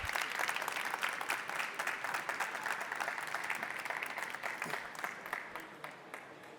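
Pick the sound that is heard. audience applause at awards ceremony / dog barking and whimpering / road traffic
audience applause at awards ceremony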